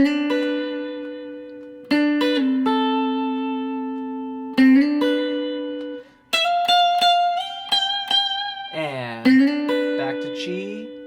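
A guitar plays the chorus of a song, with sustained chords and a break, then brighter higher voicings and a bent lick near the end, clear and close.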